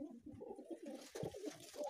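Pigeons coo softly in a coop shared with rabbits, a series of low, throaty, rolling calls repeating close by with no talking.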